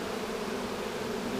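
Bees from a swarm taken off a fir tree buzz densely and continuously while being moved into a new hive, a close, steady drone with no voices.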